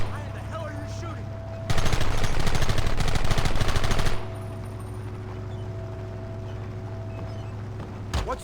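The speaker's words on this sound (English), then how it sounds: "Look, they brought the machine gun!" A machine gun fires in the Western video game Red Dead Redemption, a loud rapid burst of about two and a half seconds over a steady game hum, followed by quieter background and a brief final shot.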